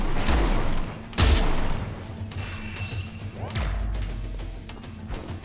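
Eurus shotgun blasts in the game Perish, several loud, punchy booms with heavy low thumps and crashing impacts, spaced a second or two apart, close and alone with no talking.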